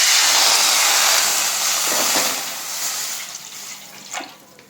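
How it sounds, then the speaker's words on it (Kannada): Half a glass of water pours into a cooking pot on the stove, a steady rushing splash that starts loud and gradually thins and fades, with a small clink near the end and no talking. "ಒಂದು ಅರ್ಧ ಲೋಟ ನೀರು ಹಾಕ್ಕೊತೀನಿ."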